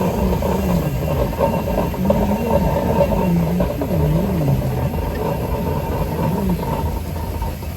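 Portable steam engines move past in a steam show parade, giving a steady, loud mechanical rumble with a low chuffing throb that stays near and continuous throughout.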